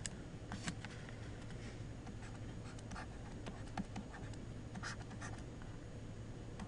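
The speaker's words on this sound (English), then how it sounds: "let me write it here." Handwriting on a board during a lecture on regression analysis: steady scratchy marker strokes with irregular taps, continuous and fairly close.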